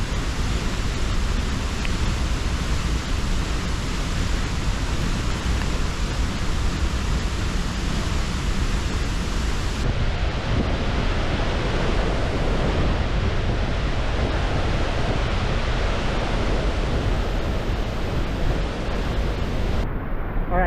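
Hardraw Force waterfall, an 80 to 100 foot drop, roaring as a loud, continuous rush of falling water that fills the scene without a break.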